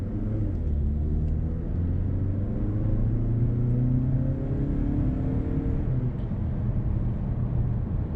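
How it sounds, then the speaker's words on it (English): A 2019 Mazda3 sedan with a 2.5 liter 4-cylinder engine accelerates in non-sport mode on a hot day. A steady engine drone rises gradually in pitch over a constant road rumble, heard from inside the car with no talk. "I'll take off here. Our first acceleration."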